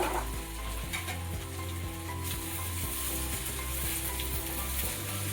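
Methi muthiya sizzle and crackle in a hot tempering of sesame seeds and curry leaves, a steady close frying hiss with light stirring scrapes and no talking.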